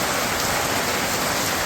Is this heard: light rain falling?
yes